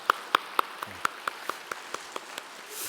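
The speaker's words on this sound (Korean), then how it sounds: "우리 환영의 박수 하도록 하겠습니다." A church congregation clapping in welcome for newcomers during a Sunday worship service, about a dozen distinct, evenly spaced claps, fairly faint and fading, with no talk over them.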